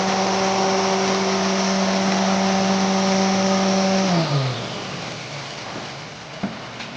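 A flour mill grinds wheat into flour with a loud, steady mechanical hum, then winds down about two-thirds of the way through, its pitch sliding lower as it slows and leaving fainter machine noise behind.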